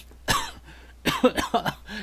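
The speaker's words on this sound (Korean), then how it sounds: "기침이 막 나와요." A person coughs several times in a row, harsh and close, with a single cough first and then a rapid cluster of raspy coughs.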